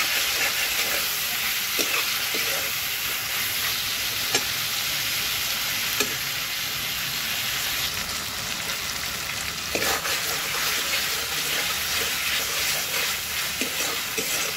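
Tomatoes and spices frying in a pan, a continuous broad sizzle with occasional soft stirring clicks, steady and close throughout, no voices.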